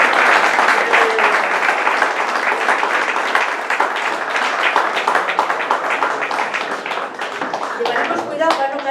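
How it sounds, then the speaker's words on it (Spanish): Loud, sustained applause from an audience at a members' day event fills the room, dense clapping carrying on throughout with scattered voices and cheers mixed in, easing slightly near the end. "para los que pido, sí, un aplauso"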